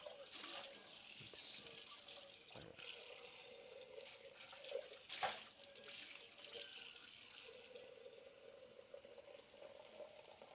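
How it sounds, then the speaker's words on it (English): Water runs steadily from a kitchen tap while something is rinsed in the sink, a continuous splashing stream with a few clunks and knocks, fairly quiet. "Just give it a quick rinse."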